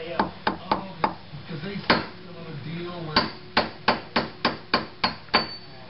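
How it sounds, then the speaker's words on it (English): A 3-pound hammer strikes repeatedly with sharp, loud thwacks on a C5 Corvette front wheel bearing stud, a few scattered blows and then a quick steady run of evenly spaced hits, close by. "This is a 3-pound hammer,"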